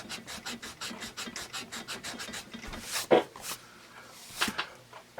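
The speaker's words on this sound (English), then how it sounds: "Let's start with the attached latex-free eraser and see how that does." Soft, rapid scratchy rubbing of an attached latex-free eraser working over pencil marks from a Musgrave #2 HB pencil, quick even strokes at first, then a few slower, louder rubs, close and faint.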